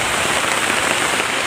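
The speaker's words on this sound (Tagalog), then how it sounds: "Lakas na ulan." Heavy rain pounds down in a mountain setting, a dense, loud, unbroken hiss of drops drumming on surfaces with no pauses.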